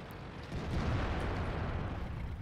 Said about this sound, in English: Looks like some artillery is coming in